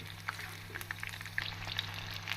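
Soya chunks (meal maker) crackle and pop as they deep-fry in hot oil, a steady close sizzle with scattered sharp bursts over a low hum.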